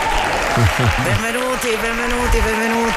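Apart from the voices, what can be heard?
applause in radio studio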